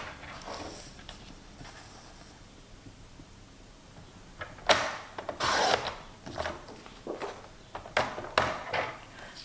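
Paper being cut for a scrapbook album, with a quiet stretch followed by a series of short, crisp bursts of cutting and handling close by, alone without talk.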